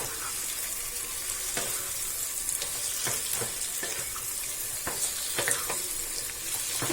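Okra and onion being stirred in a pan with garam masala, a steady sizzle of frying under repeated scraping strokes of a spoon against the metal, close and moderately loud, with no talking.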